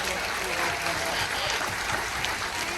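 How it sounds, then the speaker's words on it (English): An audience at a party aboard a cruise ship claps in a steady, dense burst of applause, with crowd voices mixed into it. "Give her a big round of applause."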